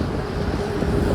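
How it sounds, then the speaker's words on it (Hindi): Steady, loud wind rushes around a Mahindra Thar Roxx AX7L SUV on a long highway drive, a dense continuous roar with no pauses. "हवा चल रही है।"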